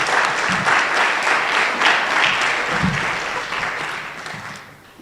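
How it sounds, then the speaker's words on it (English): Sustained applause from a school strings concert audience, steady and full for about five seconds before thinning and fading toward the end. "Another round of applause here for Eiley."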